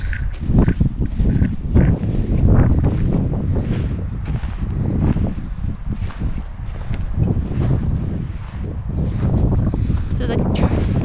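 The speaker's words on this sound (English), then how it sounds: "You can hear that wind kind of picking up now." Strong wind roars and gusts across a snowy mountain ridge in the Angeles National Forest, buffeting the microphone loudly and continuously for the whole stretch, with no clear voice over it.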